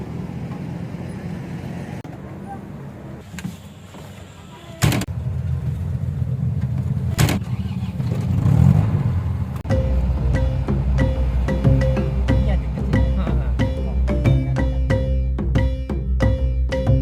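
Jeep engine at Bromo: a steady low rumble of a vehicle engine idling and driving, loud and close, with a couple of sharp clunks early on and a rattly, revving texture in the later part.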